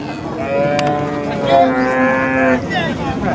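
Cow at a busy cattle market in Rahuri, giving a long, loud moo that rises and holds with clear harmonics for a couple of seconds, with crowd noise and activity in the background.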